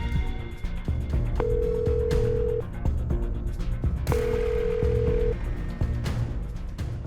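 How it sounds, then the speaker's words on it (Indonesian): Phone call ringback while dialing, two long steady tones each lasting about a second, close and clear over a dense background of music and room noise, with no voices. "Papa harus telepon Devon dan Alia."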